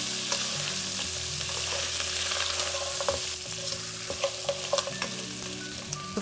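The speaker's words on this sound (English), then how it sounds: "We're gonna stir everything together." Goat fry seasoned with black pepper being stirred in a pan, with a steady close sizzle of frying meat and scraping, clinking strokes from the spoon, continuing throughout without any talk.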